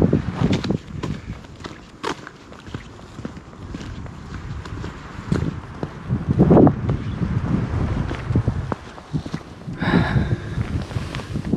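Wind buffets the microphone during a mountain snowstorm, gusting rumble mixed with crunching footsteps in snow, loud and close with uneven surges throughout.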